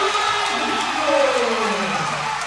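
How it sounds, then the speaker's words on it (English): A basketball crowd at a Southern Virginia University men's game against York College roars after a slam dunk, a sustained cheer with whoops and rising shouts, loud and continuous. "The crowd certainly fired up as well."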